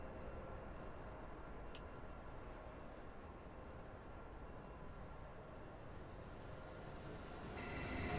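A train pulls into a station in Train Sim World 5 on the Frankfurt S-Bahn, heard as a steady low rumble of wheels and motors that swells slightly near the end, with a brief high squeal early on.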